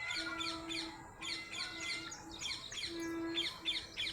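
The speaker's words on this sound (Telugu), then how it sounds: "పక్షులు ఓవైపు భలే వినబడుతున్నాయి." Birds call outdoors near a temple where peacocks are also heard, with clusters of bright chirps and squawks repeating over several seconds above a steady low tonal hum.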